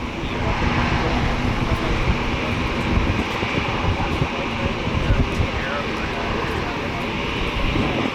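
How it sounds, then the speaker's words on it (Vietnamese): An Air Cambodia ATR 72-600 turboprop takes off from Tan Son Nhat airport, a steady, loud broadband engine roar with wind rumble holding level for several seconds, heard from outside at a distance. "mời mọi người chiêm ngưỡng pha cất cánh của chiếc ATR72600 của Air Cambodia này nhé, cất cánh rời khỏi sân bay Tân Sơn Nhất"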